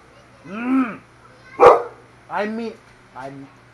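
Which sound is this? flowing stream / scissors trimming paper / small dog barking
small dog barking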